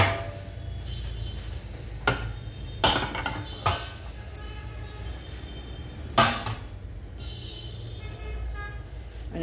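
Metal utensils lift amboli from a pan, giving a few sharp clinks and scrapes that stand out against a steady low background hum.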